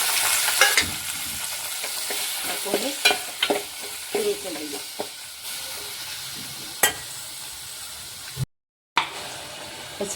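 Chopped tomatoes and coriander sizzle and hiss in a hot pan with curry leaves, a steady frying crackle broken by the clatter of a spoon stirring, close and fairly loud, with no talking.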